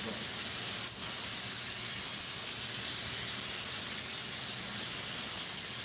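A continuous, loud pressurized hiss from a spray can of glue runs steadily for several seconds without pause.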